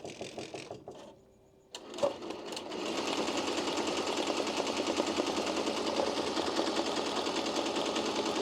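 An embroidery machine stitching a hat at 600 speed runs with a fast, even, rattling needle rhythm that settles into a constant drone after a few preparatory clicks and clunks.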